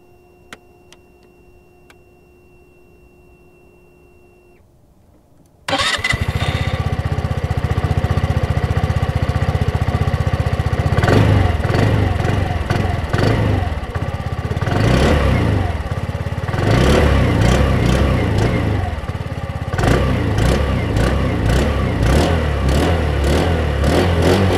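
A 2023 SYM Fiddle 125 scooter engine starts after a quiet moment with a faint ticking, then runs loud and close with repeated throttle revs rising and falling over a steady idle.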